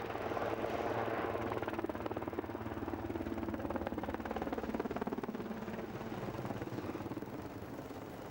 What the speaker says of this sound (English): eventually the Coast Guard helicopter joins in the search